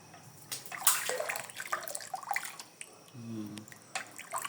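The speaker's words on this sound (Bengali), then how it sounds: "কুয়া থেকে প্রথম পানি তুললাম আজকে জীবনে।" A bucket of water is hauled up from a well and poured out. Splashes and drips come close and irregular, with a brief low thud partway through, and there is no speech.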